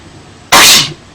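One loud, abrupt human sneeze, a single explosive burst of breath that fades quickly, close and alone.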